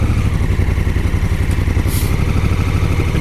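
A Honda Africa Twin DCT motorcycle in manual mode, first gear with traction control off, holds a steady low, throbbing engine rumble up close as it creeps forward, with a faint clatter, no talk.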